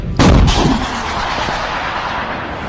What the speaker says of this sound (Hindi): पहले से घात लगाए यूक्रेनी सैनिकों ने उन पर हमला कर दिया, जिससे कुछ ही सेकंड्स में नाव पूरी तरह से धुएं में बदल गई।